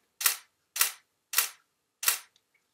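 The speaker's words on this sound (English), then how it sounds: "burst mode sounds like this." A Nikon D750 DSLR shutter fires in burst mode at 1/200 s. Four crisp, close mechanical clicks come at an even, quick rhythm, each about half a second apart, with no voices.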